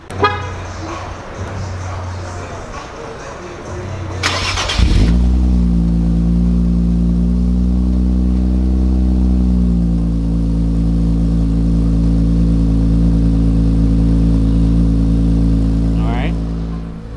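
An already warm Infiniti Q50 engine, modified to 500 horsepower, starts with a brief burst of revving, then settles into a steady, deep rumbling idle that carries on evenly.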